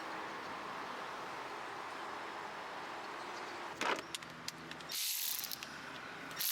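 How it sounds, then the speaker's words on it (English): A ratchet works on the T40 Torx bolts holding down the valve cover of a 1995-1997 Jaguar XJ6, with faint rapid clicking bursts late in the clip over a low background hum. "Now, remove the 13 T40 Torx bolts,"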